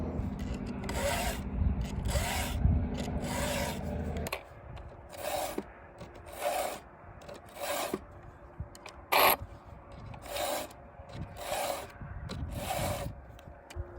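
Secondary rakers on a 3/8 picco chainsaw chain are taken down in about ten quick, evenly spaced rasping strokes, close and crisp, following a steady mechanical hum at the start.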